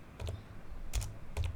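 Keys clatter on a computer keyboard while commands are entered, with three short bursts of quick clicks separated by brief pauses, close and moderately quiet.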